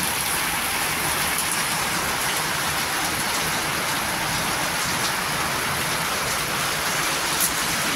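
Heavy rain falls without pause around a house whose broken roof is leaking, producing a loud, even wash of water noise throughout, with no voices.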